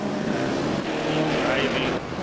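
A rally car at an Eastern European Rally Championship round restarts after a stall and drives off, its engine a moderate, slightly rising drone with talk over it.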